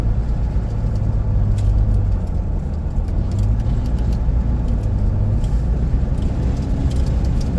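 Steady engine hum and road rumble fill the cab of a truck cruising a park loop road in Joshua Tree National Park, a continuous loud drone with no breaks.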